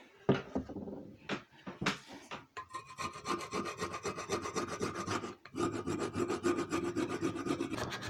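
Scraping grime and junk off a 5000 lb jack, a continuous raspy rubbing that starts with a few separate strokes, then runs steadily and close with one short break.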